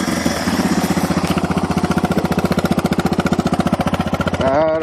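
A Suzuki DR650 motorcycle with a midpipe exhaust idles in neutral, its single-cylinder engine giving a loud, steady, rapid thumping pulse up close, with a brief rev rising at the end.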